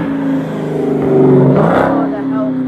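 A Dodge Hellcat revs loudly nearby at a July fireworks gathering, its engine swelling in a strong roar and then settling, with voices talking over it.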